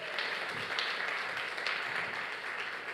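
A church congregation breaks into applause, a soft, steady patter of many hands clapping together, heard from some distance and sustained evenly without a pause.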